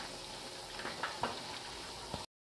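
Sweet and sour sauce thickened with cornstarch bubbles in a pan for chicken, a quiet sizzling simmer with a few soft pops and faint utensil knocks, close and without speech.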